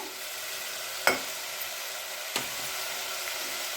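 Jowar rava khichdi with salt added, frying on low heat in a pan, a soft continuous sizzle broken by two sharp scrapes of a spoon stirring against the pan.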